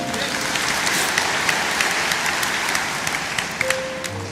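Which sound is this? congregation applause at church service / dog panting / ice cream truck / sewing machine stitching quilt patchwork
congregation applause at church service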